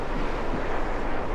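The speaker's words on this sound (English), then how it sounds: "it's still very windy out here" Strong Patagonian wind on Ruta 7, a loud constant broadband roar buffeting the microphone, close and unbroken with no other sounds.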